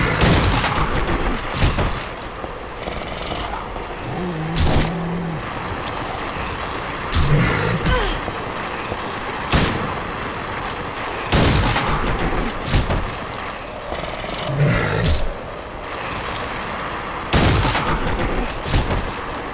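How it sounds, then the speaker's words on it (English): Shotgun blasts in Silent Hill 3, about seven loud, sharp reports spaced every two to three seconds, each cutting through a dense, droning ambient game background. "I think we'll need shotgun to this dude."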